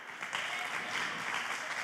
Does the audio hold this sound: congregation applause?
yes